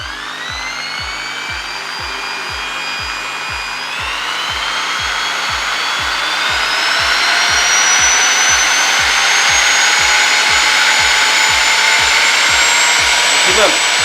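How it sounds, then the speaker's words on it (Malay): A Bosch 500-watt electric drill runs steadily through a speed controller, its motor whine rising in pitch over several seconds and then holding at a loud, constant speed, with a regular rhythmic ticking beneath it. "500 watt. Drill. Bosch."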